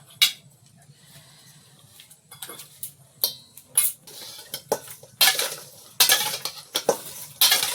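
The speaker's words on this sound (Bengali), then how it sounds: "এই যে সব মাছগুলো ধুয়ে নিয়েছি, এবার লবণ হলুদ মাখিয়ে নেবো" Fish, cleaned silver carp pieces, being worked with salt and turmeric in a bowl, giving irregular wet squelches and sharp clinks against the dish that grow busier and louder toward the end, with no talking.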